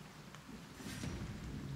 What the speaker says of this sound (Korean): 늑대를 포위해서 비가 오는 날씨 환경에서 싸워봅시다.